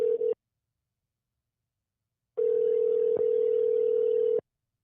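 A telephone line tone on an unanswered call: a short steady beep, a two-second silence, then a longer unbroken tone of about two seconds, clean and moderately loud with no talking.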